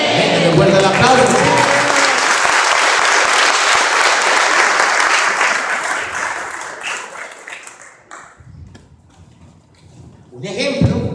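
Church audience bursts into loud, dense applause that holds steady for several seconds, then thins out and fades to near silence before a fresh wave of clapping rises at the end.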